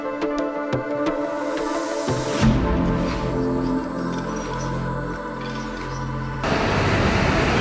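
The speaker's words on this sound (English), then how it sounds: "Yo guys, we are under the waterfall." A waterfall in Taiwan roars from right underneath, a dense, loud, continuous wash of falling water that fills the whole stretch without a break.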